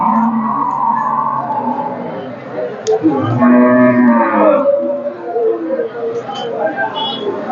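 Kangayam bulls at the Melepalayam cattle market low in long, loud moos, one drawn-out bellow standing out near the middle, with market chatter and voices around them.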